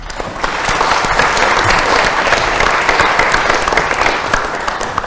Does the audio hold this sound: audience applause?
yes